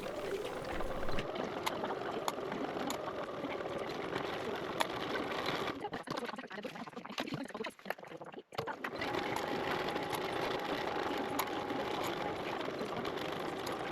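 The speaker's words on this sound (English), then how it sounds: "we're going to sew across the top with our 1/4 inch seam allowance." Sewing machine stitching across the top of elastic tabs on a fabric pack, a fast steady mechanical whir with regular needle clatter, close, briefly pausing midway, with faint speech-like sound.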